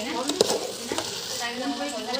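A spoon stirs rice for pulao in a frying pot, with a soft sizzle underneath and a few light scrapes and clinks against the pot, close by, while a voice talks faintly.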